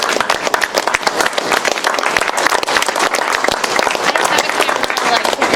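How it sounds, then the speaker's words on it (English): An audience at a small startup pitch gathering breaks into steady, dense applause that fills the room, with many hands clapping together at close range. "if we could give him a round of applause and a thank you"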